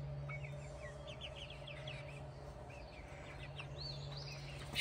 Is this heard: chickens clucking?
yes